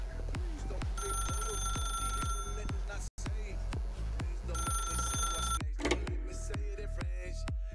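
An old telephone in The Stanley Parable rings in repeated regular bursts, loud and close, with one brief cut in the middle and a different electronic chime near the end.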